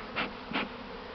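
Honey bees from a swarm buzzing near an apiary shelter, two short passes of buzzing that swell and fade as individual bees fly by, fairly faint against a quiet background.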